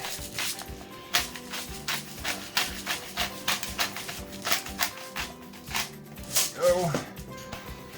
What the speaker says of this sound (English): And then some of this pepper from my awful pepper grinder.